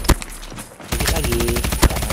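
Automatic gunfire in the Call of Duty: Mobile game, with a sharp shot, a brief lull, then a loud sustained burst of rapid fire close by.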